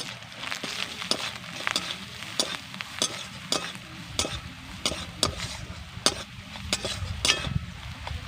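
Ridge gourd posto is stirred with spices and salt in a pan: regular sharp scrapes of a spoon against the pan every half second or so over a low sizzle, close and without talk.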